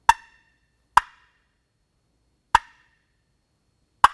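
A Zink box call gives four crisp, sharp turkey clucks, each a short wooden pop, spaced unevenly about a second or more apart with silence between, close and alone.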